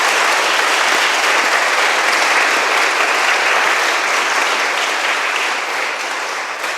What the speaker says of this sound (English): I really think I'd like to ask you to give a round of applause to the committee